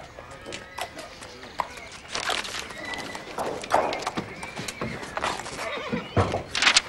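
A horse neighs loudly several times on a farm estate, with hooves clopping and shuffling nearby, while people talk over the commotion.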